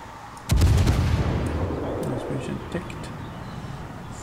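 Heavy warship cannons of the cruiser York firing in World of Warships: a sudden loud salvo of several close booms in rapid succession, then a long rumbling decay with a faint later thud, while someone speaks German over it.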